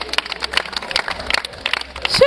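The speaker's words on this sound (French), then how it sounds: "J'ai pensé que vous alliez m'applaudir très fort" Scattered clapping from an audience at a women's month-closing gathering, sharp individual claps rising and falling unevenly in the room, mixed with crowd murmur.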